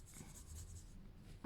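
A white gel pen scratches across paper in a series of short, faint strokes close to the microphone, ending with a louder brief knock.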